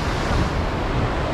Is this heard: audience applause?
no